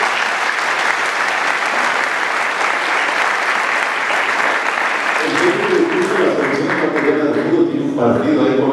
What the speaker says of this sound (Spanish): Aplaudamos